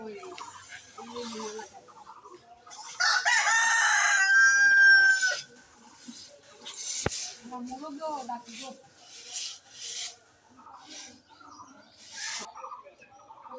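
Chickens at a home in Bangladesh, with a rooster crowing loudly once early on, followed by scattered clucks and rustling at moderate distance, with talk in between.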